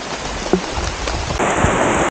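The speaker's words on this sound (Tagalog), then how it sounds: "Lalong lumakas ang ulan" Heavy rain pours steadily on a dark, steep mountain route, a loud continuous hiss with a few low rumbling thuds and no voices.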